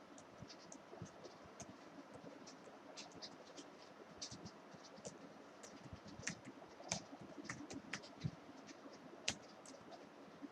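Rapid, close clicking of a computer keyboard while an SQL query is typed for a Python and MySQL exercise, an uneven run of light key taps with no voices.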